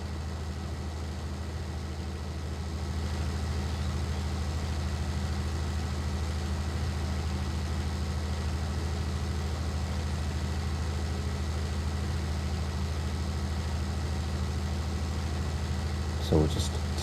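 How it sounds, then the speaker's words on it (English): A tractor engine in Farming Simulator 19 drones steadily under load while silage work goes on, a low continuous hum that rises slightly and holds, with a brief clatter near the end. "even then you can hear the engine struggling."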